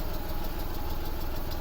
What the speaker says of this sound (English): the engine is on, very quiet, ticks over lovely